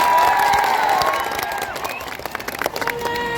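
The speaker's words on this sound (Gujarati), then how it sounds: "બધા માટે એકવાર તાળીઓ પાડી લઈએ।" Crowd at a political rally applauds and cheers, a loud dense wash of clapping and shouts with whistle-like tones, fading slightly as scattered claps continue.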